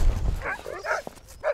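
Hungry dogs bark and yip in quick excited bursts, with a few short high yelps and whimpers close by.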